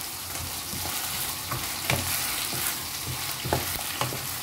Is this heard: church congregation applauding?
no